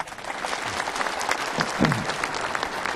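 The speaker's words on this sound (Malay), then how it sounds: "Kita berikan tepukan kepada Prof." Steady, dense applause from an audience at a Malaysian academic forum on social media, sustained at an even level for several seconds and filling the hall with continuous clapping.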